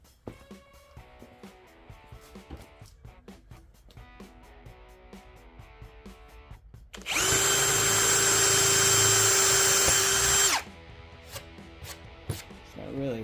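A loud power drill with Milwaukee bits whines steadily for a few seconds, slowly drilling over a metal rail of a Ryobi miter saw stand, starting and stopping abruptly, between quieter stretches of light tapping and handling noises.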